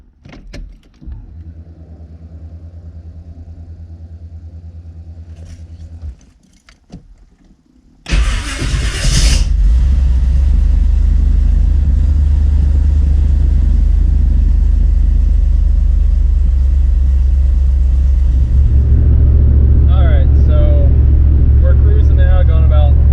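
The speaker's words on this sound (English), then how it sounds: "I'm gonna go ahead and fire this thing up," A car with oil pressure problems, topped up with extra oil, starts up after a quieter stretch with voices and hum, then roars and settles into a loud, steady running drone close by.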